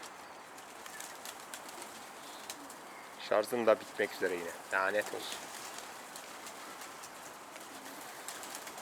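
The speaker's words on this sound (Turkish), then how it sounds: "Kuşlarımız yukarı çıktı" Pigeons take off and fly upward, faint wingbeats and soft cooing running quietly in the background for the whole stretch, with someone speaking briefly midway over the birds.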